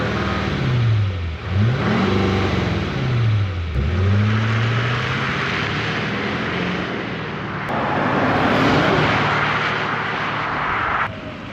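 An LML Duramax diesel truck with a delete kit pulls hard through the gears. The engine drones loudly and continuously, its pitch sweeping up and dropping at each of several shifts early on, then holding a steady roar.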